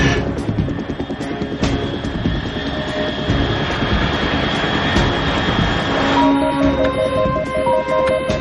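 A jet aircraft roars steadily overhead in the video game Metal Gear Solid 3, a loud, continuous broadband rumble, with sustained tonal layers joining near the end.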